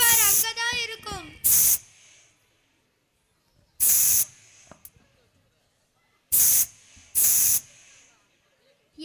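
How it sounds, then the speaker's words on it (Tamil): An aerosol room spray hisses in short sharp bursts, several spaced puffs with quiet gaps between, near and loud, after a brief stretch of talking voices at the start during a school skit. "என்னடா ரூம் ஸ்ப்ரே அடிக்கிற"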